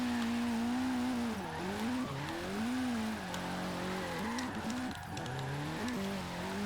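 A Ford Focus RS in the Forza Horizon 3 racing game spins out while drifting, its engine droning and wavering in pitch, with squealing tyres throughout.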